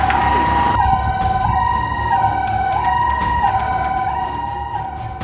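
An emergency siren wails in a steady rising-and-falling cycle, loud and close, after bomb blasts in Mogadishu, Somalia, with faint street noise beneath it.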